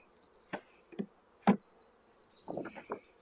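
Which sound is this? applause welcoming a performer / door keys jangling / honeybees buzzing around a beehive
honeybees buzzing around a beehive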